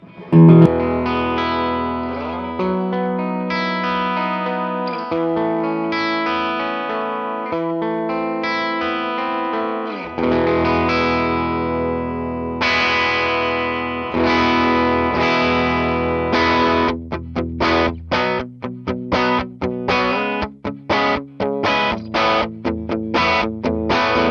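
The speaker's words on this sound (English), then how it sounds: "now we're using humbuckers in this 335, so I'll let you listen" Electric guitar with humbuckers, a 335, through a Tex Amps Model EF86 amplifier, played continuously with sustained chords and single notes, later shifting to choppy, rhythmic strums, full and fairly clean with light effects.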